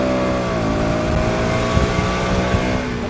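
A 2023 KTM Duke 200 motorcycle engine runs hard and accelerates, a close, loud, steady droning buzz with rising pitch through the short stretch and no talk over it.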